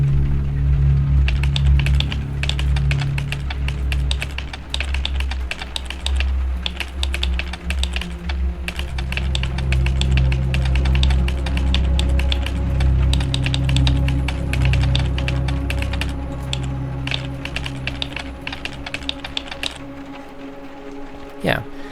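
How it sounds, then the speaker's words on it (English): Keyboard typing in a writing app's cyberpunk Neon City theme: continuous quick key clicks over a loud low ambient hum and music bed, close and busy throughout. "So this is the Neon City theme. It's a cyberpunk theme."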